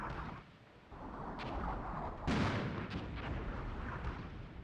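Artillery fire in the Armored Brigade 2 war game, a rumbling barrage of distant booms with one sharper, louder blast near the middle, over steady battlefield noise.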